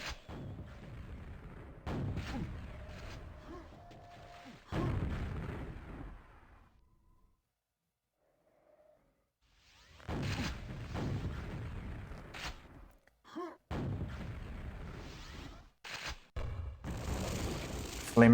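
Grenade blasts in the QuakeWorld duel game, a run of loud booming explosions in separate bursts with a quiet gap in the middle, mixed with game gunfire and mechanism noises.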